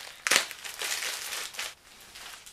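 Decoratively wrapped Valentine's Day snail mail is unwrapped by hand, with close crinkling and tearing of paper in short bursts, loudest in a sharp rip near the start, then softer rustling.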